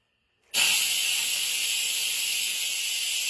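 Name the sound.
steam released from pressure cooker making birria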